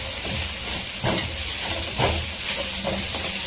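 Onion, cabbage and spring onion sauté in a pan for paneer vegetable fried rice, giving a loud hissing sizzle broken by several short stirring scrapes, and nobody speaks.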